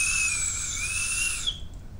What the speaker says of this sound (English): It's a basketball whistle.